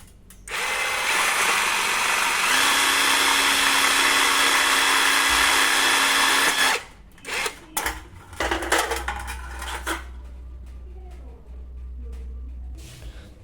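A power drill bores into a hollow steel frame for a pigeon cage with a loud, steady whine for several seconds, then stops, followed by clunks and handling noises.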